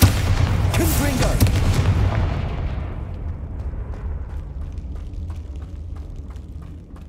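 A loud, booming explosion from the Confringo fire spell in Hogwarts Legacy erupts at the start, then rumbles and decays over several seconds into crackling debris and faint scattered pops.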